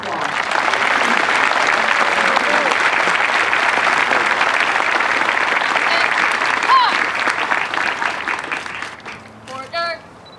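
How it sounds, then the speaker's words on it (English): A large crowd applauds new military training instructors at an outdoor Air Force basic military training parade, loud and dense clapping that holds steady before thinning out near the end, with a few cheers mixed in. "Please give our newest MTIs another round of applause."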